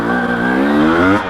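A KTM 250XC or 300XC two-stroke dirt bike engine revs hard and loud in second gear, a steady climbing drone that rises in pitch and holds near the listener, with no talking.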